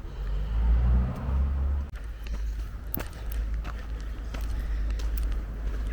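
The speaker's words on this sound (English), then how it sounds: "I can hear the traffic down below on Middle Road" Road traffic on Middle Road below a wooded trail passes as a low, continuous rumble, with one vehicle swelling louder early on before a softer, steady hum and occasional light footsteps nearby.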